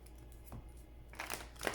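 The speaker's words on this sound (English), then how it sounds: "as I shuffle the cards" Oracle cards being shuffled by hand give a few soft, papery riffling bursts, quiet and close, separated by brief pauses, with no talking.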